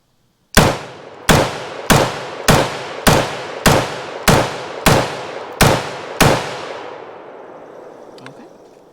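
Ten sharp, loud rifle shots from a T91 piston AR rifle fed from a modern PMag at an outdoor range, evenly spaced about two-thirds of a second apart, each ringing out briefly before a fading echo.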